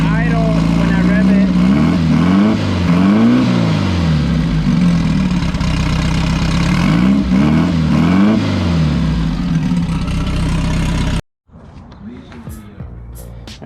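A turbocharged VW Beetle engine on a car with a suspected head or piston fault, idling roughly, then revved in repeated rising and falling swells, loud and close, before cutting off abruptly to near silence.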